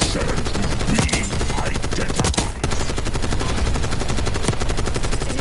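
Heavy, rapid automatic gunfire in the video game Call of Duty Black Ops 6 on the multiplayer map Babylon, with loud continuous bursts and sharp shots filling the clip.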